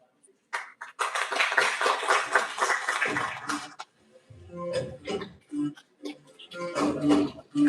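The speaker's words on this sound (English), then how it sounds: "A round of applause should not stop, ladies and gentlemen" At a university felicitation ceremony honouring a guest, a hall audience breaks into a burst of clapping that lasts about three seconds, then fades out as a voice starts speaking over scattered quieter claps.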